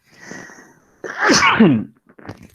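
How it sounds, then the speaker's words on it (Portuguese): A single loud, close sneeze with a sharp burst and trailing breath, preceded by a soft inhale and followed by quiet rustling. "Antes eu vou precisar espirrar."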